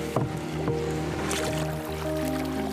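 Kayak paddles dip and splash steadily on the Dnieper river through the floodplains near Zaporizhzhia, with close, soft water swishes over a continuous outdoor background.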